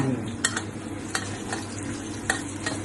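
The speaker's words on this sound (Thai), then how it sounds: "ตั้งน้ำมันแล้วก็ผัดกับกระเทียมจนบึ้ม" Chopped garlic is stir-fried in hot oil for a clam dish with roasted chili paste, making a continuous close sizzle broken by regular scraping strokes of a spatula against the pan.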